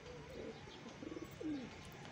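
Freshly caught stray pigeons, including a Sialkoti and Golden cross, give a few soft, close coos. A short fluttering burst is followed by a rising and falling call over quiet background noise.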